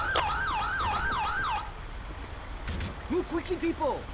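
Wailing ambulance siren in the GTA 5 video game, a loud rising-and-falling electronic tone for the first second and a half, then brief yelping siren bursts near the end over steady traffic noise.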